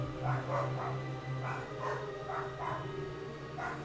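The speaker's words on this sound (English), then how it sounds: "I can listen to my dogs bark." Dogs bark at a distance in a steady, repeated series of muffled yips and woofs over a constant low hum.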